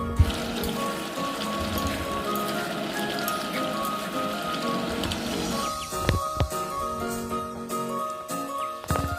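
Mutton pieces for curry, sautéed until the oil separates, sizzle and crackle steadily in hot oil, close and even, with a few sharper clinks near the end and no talking.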